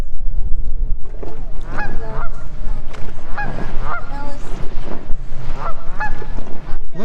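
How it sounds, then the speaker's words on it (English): A flock of ducks at a lakeside honks loudly and repeatedly, overlapping calls coming in a busy, continuous chorus close by. "Is this a duck party?"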